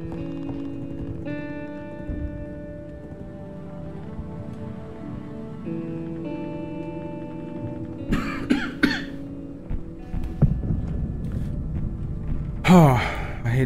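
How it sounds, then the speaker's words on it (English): A person in This War of Mine coughs in a few rough bursts with gasping breaths, heard late in a stretch of sustained ambient game music. "I don't know why I'm coughing right now."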